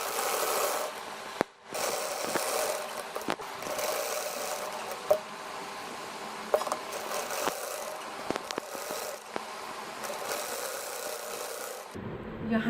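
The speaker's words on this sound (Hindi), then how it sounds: "मैं इसको डायरेक्ट सिलाई लगा कर सीऊँगी।" A sewing machine stitching a V-neck shirt neckline, running in a steady close whir across most of the span, with brief stops and clicks between runs.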